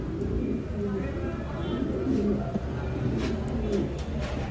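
Fancy pigeons, among them a pair of crested running Bombai birds, coo steadily at close range in a loft, with soft overlapping cooing and some background noise throughout.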